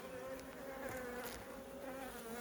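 A dense, steady buzzing of many honeybees fills the space during a hive inspection, close and continuous, with a shifting hum and no voices.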